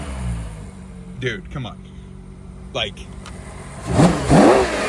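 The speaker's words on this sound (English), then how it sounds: "Oh, the exhaust changed. Let's listen to it." A 2024 Ferrari Purosangue in Verde British Racing revs with its exhaust in a changed mode, brief throttle blips early followed by a louder, rising rev near the end, while someone talks over it.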